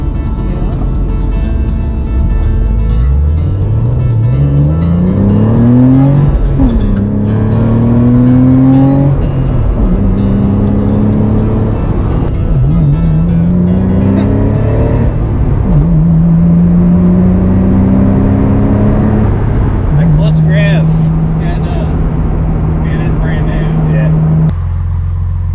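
A Porsche engine revs up repeatedly in long rising sweeps, climbing through the gears and then settling into a steady high drone, loud and close, with people talking over it.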